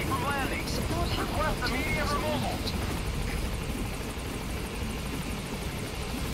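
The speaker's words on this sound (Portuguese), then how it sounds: "Quando o helicóptero estiver pousando aqui, o helicóptero não chega até esse ponto aqui." Helicopter rotor drone from the Metal Gear Solid V: The Phantom Pain video game, a steady loud hum running throughout while someone talks over it.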